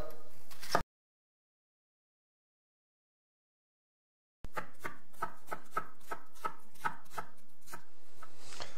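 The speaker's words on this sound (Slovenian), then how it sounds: "Zdaj imamo dve čebule, ki jo bomo narezali." Two onions being chopped on a cutting board for an asparagus and chicken risotto, a short burst of cutting, then silence, then a steady rapid run of crisp knife strikes on the board, close and clear with no talking.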